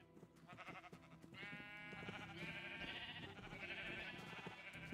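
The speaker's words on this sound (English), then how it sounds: "Oh, shear the sheep and sell the wool for emeralds." Sheep in Minecraft bleat in a sustained, wavering cry, loud and close, layered with soft game background noise and no talking.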